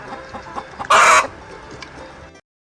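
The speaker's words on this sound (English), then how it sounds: "The chicken goes." A chicken's clucking call on a farm, one short loud burst standing alone over a quiet background.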